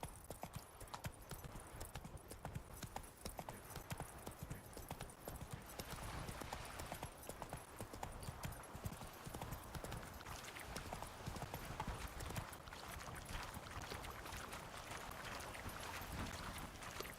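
Steady, rapid hoofbeats of a galloping horse in The Witcher 3 video game, a continuous drumming rhythm over a faint wash of ambient noise that carries through the whole stretch.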